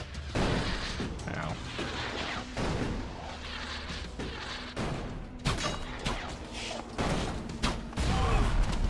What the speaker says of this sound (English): Shooting me, do you?